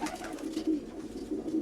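Pigeons cooing, soft repeated low murmuring calls that continue throughout, close and steady.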